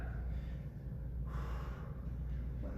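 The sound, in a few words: heavy breathing after a workout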